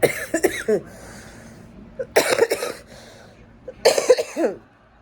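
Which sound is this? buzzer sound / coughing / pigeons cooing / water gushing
coughing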